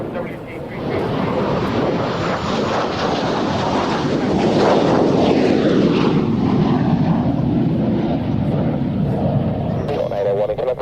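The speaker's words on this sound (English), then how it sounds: "let's go back to Waddington Airshow time with this fabulous display of the Canberra" Canberra jet making a loud display pass at the Waddington Airshow, a broad roaring engine rush building and sweeping past with a falling pitch, buffeted by wind noise throughout.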